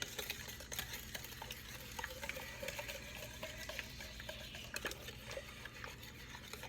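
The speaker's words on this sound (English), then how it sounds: "Add your 4 eggs, and you're gonna mix that together." Four eggs being mixed with vanilla, salt and sugar for flan, giving quiet, continuous stirring and scraping in a bowl with a few sharper clicks against the side, up close and with no talk.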